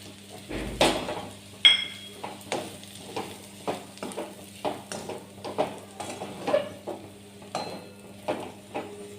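Wheat-flour lapsi cooks in ghee in a pan, stirred steadily: rhythmic metal scrapes and clinks of a spoon against the pan over a soft sizzle, close and fairly quiet, with no talking.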